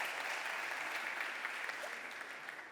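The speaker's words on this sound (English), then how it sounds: "Can we give them a nice round of applause for joining us today?" Steady audience applause for panelists at a cyber conference panel, a dense, even patter of many hands clapping, moderately faint and fading slightly toward the end.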